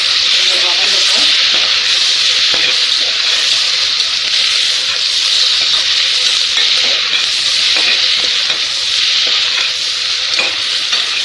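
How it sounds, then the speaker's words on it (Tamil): Tomatoes sautéing in hot oil in a pan, a loud continuous close sizzle and hiss with occasional stirring scrapes throughout. "ஸோ இப்போ தக்காளி ஆட் பண்ணிடலாம். தக்காளி நல்லா கொஞ்சம் வதங்கட்டும்."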